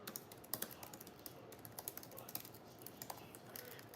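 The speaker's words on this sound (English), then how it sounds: "All right, I'm just gonna type them in." Rapid, close typing on a computer keyboard, a continuous patter of crisp key clicks with a few louder taps, quiet and without speech.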